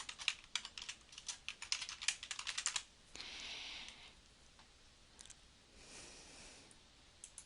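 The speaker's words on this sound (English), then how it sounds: "I'm going to click in that text box and we're going to type in real estate" Rapid clicking keystrokes on a computer keyboard patter quickly and close for a few seconds, then give way to softer scattered taps and quiet rustling.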